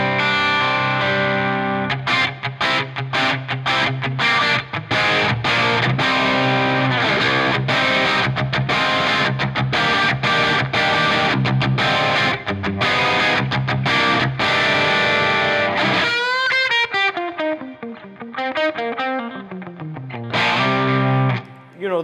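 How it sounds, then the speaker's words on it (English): Electric guitar through the pushed clean second amp of Neural DSP's Archetype Rabea, loud rhythmic chord strumming with slight crunch, then a bending melodic phrase, played alone. "let's say, pushed clean sound like this,"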